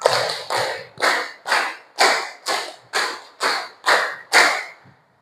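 A classroom of students claps in unison, two bursts of five sharp, evenly spaced claps that ring out loud and close with brief pauses between, no talking over them.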